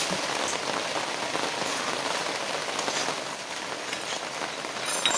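Pre-fried soybean chunks are tipped into hot spiced oil and stirred, giving a dense, steady, loud sizzle that crackles without pause throughout.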